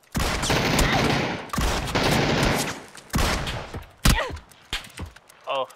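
In the video game PUBG, a DBS double-barrel shotgun fires in several loud, roaring bursts, followed by a sharper single shot and fading echoes.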